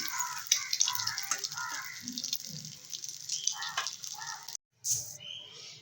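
Meat sizzles and crackles softly in hot oil in a kitchen, a steady frying hiss with a brief break of near silence near the end.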